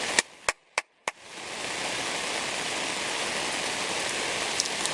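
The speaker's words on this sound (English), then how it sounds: "Bring it on, rain." A few sharp clicks open the clip, then a steady wash of rain falling at Celina Lake in Hoosier National Forest swells in and holds, even and continuous.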